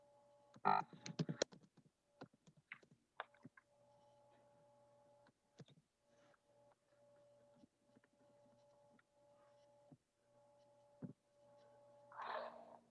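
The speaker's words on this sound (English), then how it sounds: "While you're typing" Scattered light clicks and taps of computer keyboard typing during a talk on the African Burial Ground in Jersey City, irregular and fairly quiet against a steady low hum, with a brief noisy burst near the end.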